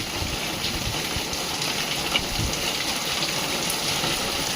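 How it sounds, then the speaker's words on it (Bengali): Heavy rain pours down in Morbi, a dense, steady roar of water hitting surfaces that stays loud and continuous throughout, with no voices. "এত জোরে বৃষ্টি হচ্ছে দেখা যাচ্ছে না"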